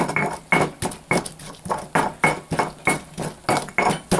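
Tomato being crushed and ground in a stone molcajete, a regular series of about a dozen hard scraping and knocking strokes, close and fairly loud, with no talk.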